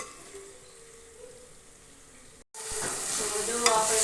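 Onion and tomato sizzle in hot oil in a pan as a tempering is stirred, a soft hiss at first, then a brief cut and a louder, brighter frying crackle with scraping.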